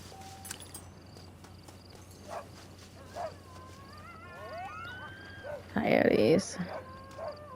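Coyotes in the video game Red Dead Redemption give a few thin, wavering yips and howls at middle distance, with a louder yelping burst near the end, under a low ambient hum.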